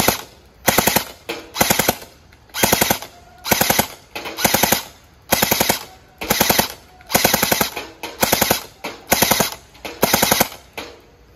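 Gel blaster, an LDT 416 3.0 Plus, fired on a 30 m shooting range test: loud, close, rapid full-auto bursts in a regular rhythm of short strings separated by brief pauses, with no talking.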